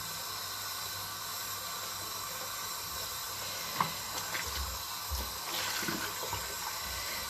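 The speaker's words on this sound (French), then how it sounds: "j'enlève tout à l'eau tiède" Warm tap water runs steadily at a bathroom sink while a face is rinsed clean after cleansing, with a soft continuous hiss and a few faint splashes and knocks toward the end.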